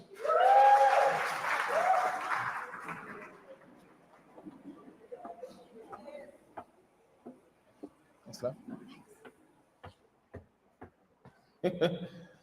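At a business workshop in Rustenburg, an audience gives a short burst of loud clapping with a high whoop or whistle. It thins quickly into scattered single claps and faint murmurs, then a last small flurry at the end.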